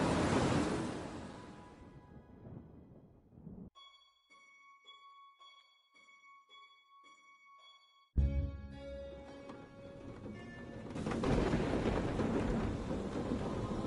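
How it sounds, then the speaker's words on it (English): A raging thunderstorm in the VR game A Fisherman's Tale: heavy rain and rumbling thunder fill the opening seconds, give way to a quiet stretch of sustained tonal music, then the storm surges back loud with rain and thunder. "Outside, the storm raged."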